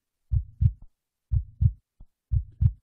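A heartbeat pulses steadily in three deep lub-dub pairs about a second apart. It is clear and close against silence.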